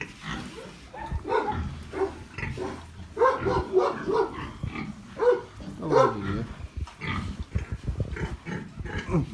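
A dog barks repeatedly in short, irregular bursts, mixed with grunting noises from 15-day-old piglets close by.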